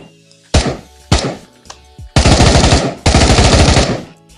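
Automatic weapon fire in Pavlov VR: two single loud shots, then two long sustained bursts of rapid gunfire, close and dominant with brief gaps between.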